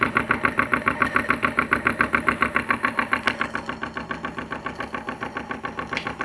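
A PM Research No. 3 model steam engine fed by a Roundhouse boiler chuffs along at full throttle with a steady, rapid rhythmic beat of exhaust puffs, close and fairly loud, easing slightly later.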